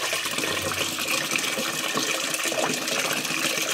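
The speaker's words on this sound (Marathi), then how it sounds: "पाणी ठेवते आता तापवायला" A steady stream of water pours without a break into a cooking pot, splashing and hissing close by as the pot fills.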